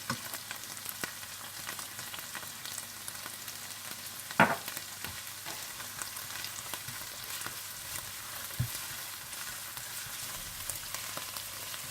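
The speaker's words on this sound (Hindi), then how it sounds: "जब ऑनियन पेस्ट भून जाए तो आप इसमें अदरक लहसुन डालकर भून लें" Steady soft sizzling of ginger and garlic frying in onion paste in a pan, with a few light clinks and taps, continuous and close, no voices.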